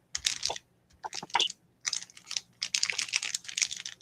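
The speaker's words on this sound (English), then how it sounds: "I love the sound of paper bags." Paper bags are handled up close in short bursts of crisp crinkling and rustling, separated by brief pauses.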